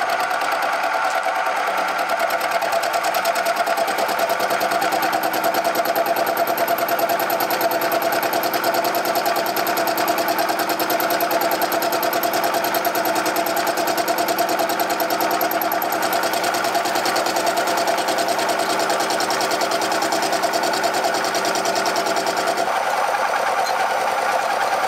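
Carbide insert face mill taking a pass through aluminium at 600 RPM, a steady, loud machining whine and buzz that runs continuously throughout with no talk.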